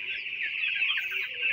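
Fifteen-day-old Aman company broiler chicks, a dense continuous flock chorus of high peeping and soft clucking, steady and close with no gaps.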